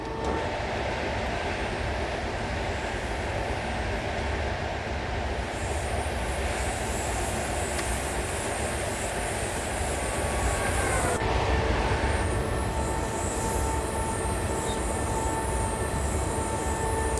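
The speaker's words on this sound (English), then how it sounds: "without me talking, you can actually hear the sounds of the train" A train in Train Sim World 2022 rumbles steadily along for a long stretch, a continuous low roar with a high whine and occasional clanks, no talking.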